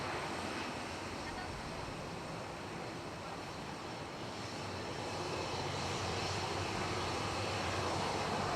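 A Ryanair airliner takes off from runway 10 right at Dublin Airport, its engines a steady broadband roar heard from a distance, swelling slightly toward the end with no voices over it.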